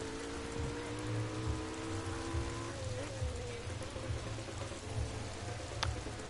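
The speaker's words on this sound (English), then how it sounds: "The rain is falling harder and harder." Heavy rain falling in a GT3 racing video game, a steady loud hiss of rain on surfaces with a faint engine drone and a low rhythmic hum underneath throughout.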